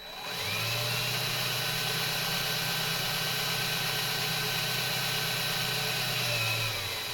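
A power drill bores through fibreglass into wood on a boat project, a steady close whining motor tone with a low hum, running evenly for several seconds before winding down at the end.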